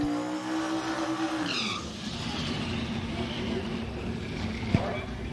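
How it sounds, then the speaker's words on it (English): A turbocharged LS-powered 1984 Mercury Marquis station wagon at a drag racing event, engine revving high then dropping off into a loud crowded track roar, with a sharp pop near the end. "This is Sal Lee, the single turbocharged LS power plant, 1984 Mercury Marquis station wagon."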